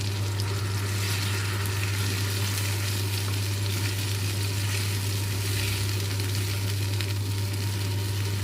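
Tomato puree frying for a Punjabi-style okra masala curry, a steady, close sizzle running the whole time alongside a constant low electrical hum, with no talking.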